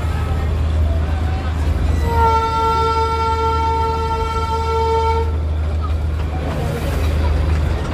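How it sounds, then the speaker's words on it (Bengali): A Darjeeling toy train's whistle toots in one long sustained note over a chugging steam rumble, with a crowd chattering in the background. "এই যে ঝিকঝিক ঝিকঝিক করে যাওয়া"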